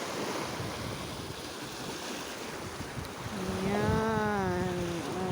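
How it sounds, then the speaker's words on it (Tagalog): Large ocean waves breaking and rushing on a windy beach, a loud continuous roar with wind buffeting the microphone, and a brief wavering tone rising over the surf near the end. "Ang laki ng alon guys."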